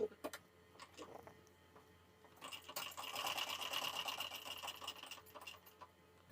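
A domestic sewing machine starts with a few single clicks, then runs in a fast, steady mechanical whir while stitching a strip of blouse fabric, close and clear in a quiet room.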